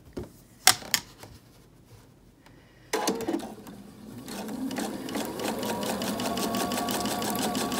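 A sewing machine stitches together pieces of quilt block fabric. A few soft handling clicks come first, then the machine starts up and keeps running in a steady, fast, close-up rhythm.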